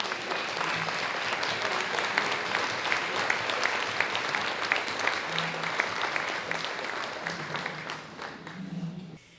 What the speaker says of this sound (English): let's give them all a giant round of applause